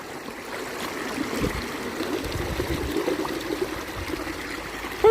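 Shallow river water running beneath a simple gold-mining sluice gives a soft, steady gurgle and trickle close by, low in level with small splashes and no voices.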